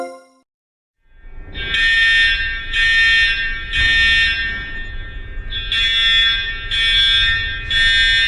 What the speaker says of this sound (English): Hey Baloo, what's with the fire alarm going off?